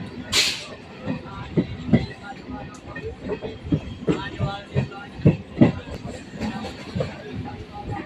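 A passenger train between Katwa and Bardhaman rolls into a station with rhythmic clickety-clack of wheels over rail joints, a sharp hiss at the start and faint voices in the background.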